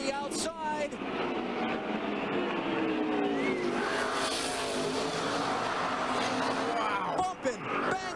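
NASCAR stock cars race through the final corners at Martinsville, a loud dense roar of engines with passing whines over a constant crowd-and-track din, under excited commentary.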